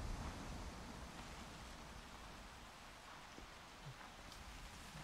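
Rain in the A Quiet Place video game, a steady, even hiss of falling rain that stays quiet and continuous from start to finish, with scattered tiny drop ticks and no voices.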